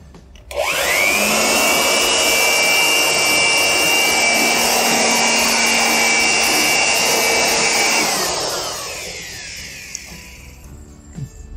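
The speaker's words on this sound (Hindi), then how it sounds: "तो इससे हम इसको ब्लोइंग करते हैं और डस्ट फ्री कर देते हैं ट्रैक को" An electric air blower blasts dust off the track of a sliding patio door, a loud, steady whirring roar that spins up abruptly, holds for about eight seconds, then winds down and fades.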